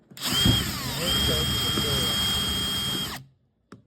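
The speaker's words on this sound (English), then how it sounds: "you're just gonna put and start drilling right center of the brick" Power drill boring into the center of a brick, a loud steady whine with a rising then level pitch lasting about three seconds before cutting off, followed by a brief click.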